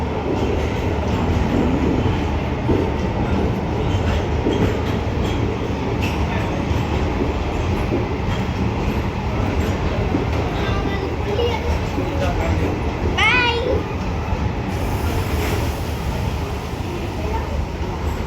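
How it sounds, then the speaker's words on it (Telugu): A train pulls away from Charlapalli railway station with a steady rumble of wagons, a brief wheel squeal partway through, and people talking nearby over the noise. "మొత్తానికి ట్రైన్ దగ్గరుండి మనం సెండ్ ఆఫ్ చెప్తున్నాం"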